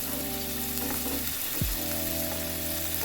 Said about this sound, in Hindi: इसके साथ ही मैं 1 बाय 1 इस तरह करके ग्रिल्स पे रख दूँगी।